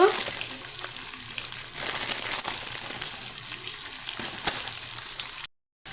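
Tomatoes, onion, turmeric and salt frying in a pan, a steady bright sizzle throughout with light stirring, close and continuous before a brief cut near the end.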